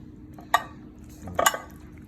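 Pasta mix being spooned into a glass dish, with two short, soft clinks and scrapes of utensil against glass and quiet movement between them, no talking.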